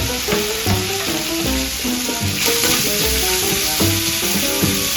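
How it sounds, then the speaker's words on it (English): Potatoes frying in hot oil in a home kitchen, a loud, steady close sizzle with rhythmic pops, scraping and clattering throughout. "While that's frying, we're gonna drop some potatoes in there for Talitha."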